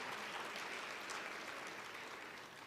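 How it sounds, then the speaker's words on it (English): Attendees of a South African human rights conference clap for themselves in a hall, sustained soft applause from a large group that stays even and slightly fades toward the end, heard faintly from a distance. "I think we should just clap hands for ourselves, all of us."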